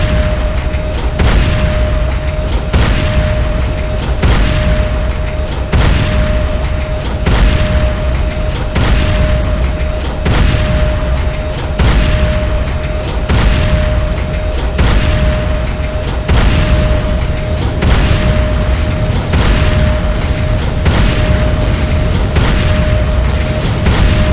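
Repeated booming explosions around a GDI Tiberium refinery under attack in the Renegade Command & Conquer game, heavy blasts pulsing at a regular rhythm for over twenty seconds over a constant hum, with no talk.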